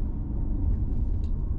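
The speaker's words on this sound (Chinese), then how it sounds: "轮胎跟这个地面接触之后还有个嗡嗡嗡的声音" Continental CC7 tyres on a wet race track give a steady, low droning hum that runs loud and unbroken from inside the moving car, with no talk.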